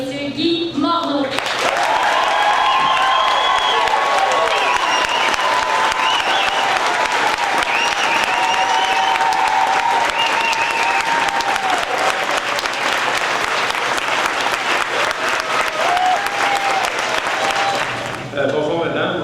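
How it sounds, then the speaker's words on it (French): Loud, steady audience applause at a 2014 IGA store opening, continuous for nearly the whole stretch, with a voice speaking over it in the middle and the clapping cutting off abruptly at the end. "s'il vous plaît, faites-leur savoir par vos applaudissements"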